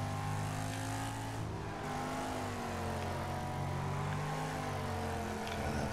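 Several race car engines drone and shift pitch as they circle the Road Cutter Oval in Wreckfest, a steady, continuous roar with overlapping engine tones.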